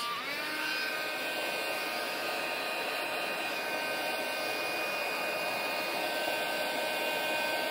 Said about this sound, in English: Let me see how this heat gun works.